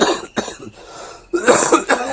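Two bursts of harsh coughing from a nearby person with a cold, separated by a short pause with faint background noise.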